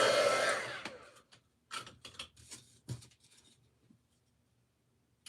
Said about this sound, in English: I think I'm going to sand the edges.